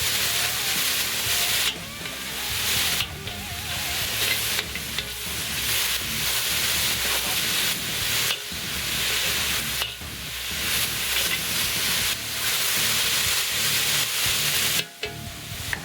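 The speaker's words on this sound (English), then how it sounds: "Get that celery cooking." Celery sizzling loudly in a hot pan during a chicken stir fry, a constant frying hiss broken by repeated scrapes and stirring, with no talking.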